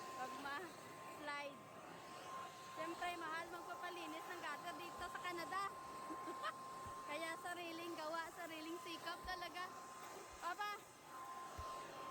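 A vacuum cleaner's steady motor whine runs throughout while a person talks over it.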